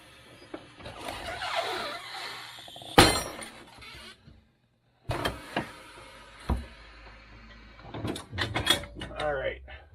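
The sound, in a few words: tire machine breaking the bead, peeling tire off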